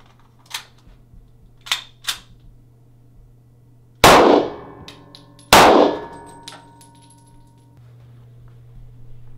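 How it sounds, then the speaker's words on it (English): Two loud, sharp shots of 9mm Winchester Ranger +P+ rounds strike body armor about a second and a half apart, with a few faint clicks before them and no talking. "we should hit our armor with the Winchester Ranger Plus P Plus. the 9mm"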